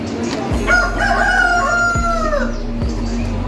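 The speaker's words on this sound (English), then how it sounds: "We got chickens and rabbits in here." A rooster crows a long, loud cock-a-doodle-doo close by at a market in Musanze, Rwanda, where chickens and rabbits are kept together, over a steady low hum with a few soft thumps.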